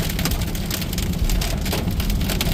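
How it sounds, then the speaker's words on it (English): Pea-size hail and rain fall together in a dense, continuous patter on nearby surfaces, steady and fairly close, with no voices. "It's not big hail, but it's pea size."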